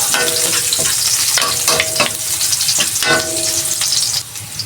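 Garlic sautés in hot oil for a chicken pochero, a loud continuous close-up sizzle broken by repeated spatula scrapes and clinks against the pan, with no talking.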